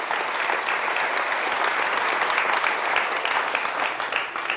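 A church congregation bursts into sustained, dense applause praising Jesus, a steady wash of many hands clapping together throughout, loud and unbroken with no speech over it.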